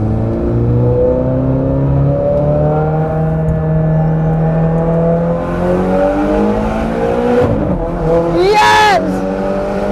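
A Ferrari 430 Scuderia with a straight-pipe exhaust and its valve open revs hard and close, the engine note climbing and falling in loud sweeps, ending in a sharp high-revving burst.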